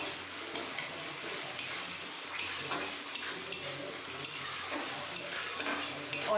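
Chopped tomatoes fry over a high gas flame in a pan for a mung dal curry with potato and pointed gourd, a soft, steady sizzle broken by occasional light clinks from stirring.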